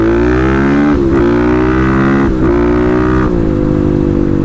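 A 250cc motorcycle runs hard during log hopping drills, its engine droning loud and close with several quick throttle dips and surges in pitch.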